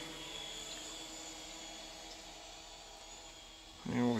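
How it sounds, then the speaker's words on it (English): A camera drone hovers outdoors on a bright, cold day after a snowstorm in Taylorsville, North Carolina, giving a steady, fairly faint buzzing whine throughout, with a brief voice near the end. "Let's get the drone out somewhere where it can hover."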